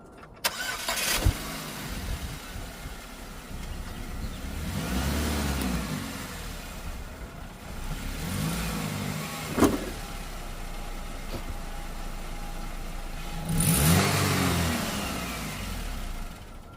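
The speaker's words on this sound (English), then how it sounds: "First thing I'm going to do is pull it up on the ramps." A high-mileage Chevy Cobalt started and driven up onto ramps, its engine turning over and revving in a few surges with short pauses and mechanical clunks between, close by and without talk.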